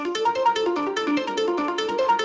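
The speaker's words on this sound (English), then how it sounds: "This is a faster sort of pluck that comes in right here." A fast plucked synth pattern plays alone in a track, with quick bright staccato notes repeating in rapid, even rhythm.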